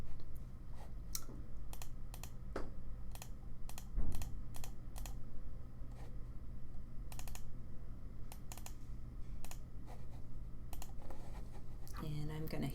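Steady clicking of computer keyboard keys, irregular typing taps at close range, quiet background hum, with a brief rustle near the end.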